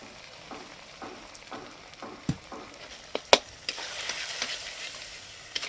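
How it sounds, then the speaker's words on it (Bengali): Spices, chili, garlic and onion cooking in a pan for Bengali masoor dal bora curry, giving a low steady sizzle with scattered stirring scrapes and a few sharp clinks, fairly faint and without talk. "এইবার একটুখানি জল দেবো আর কষাবো একটুখানি"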